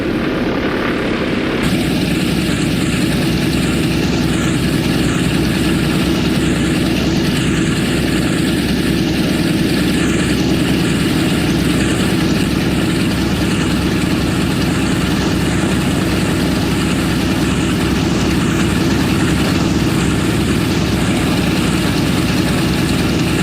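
B-17 Flying Fortress bomber engines drone steadily at idle while taxiing, a loud, continuous, throbbing rumble that holds evenly throughout with no voices.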